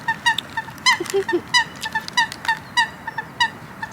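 A flock of ducks quacking repeatedly in quick, overlapping bursts, fairly close, with a few deeper honking calls mixed in.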